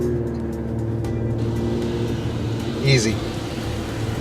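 A 2013 Nissan Pathfinder AWD climbs a steep off-road hill, its engine giving a steady low hum from inside the cabin with a brief spoken word over it.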